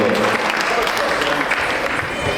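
A hall audience at a Telugu association's Sankranthi cultural celebration applauds in a thick, continuous burst of clapping that stays even and loud throughout.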